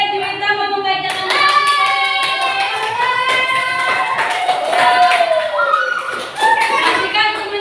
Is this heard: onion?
no